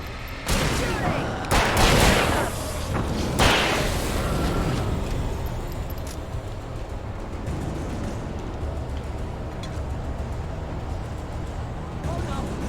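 Video game gunfire rattles in rapid bursts near the start, then settles into a dense, continuous din of shooting and rumble, with voices heard over it.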